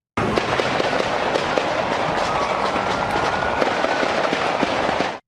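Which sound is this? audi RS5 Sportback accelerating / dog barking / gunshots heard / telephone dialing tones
gunshots heard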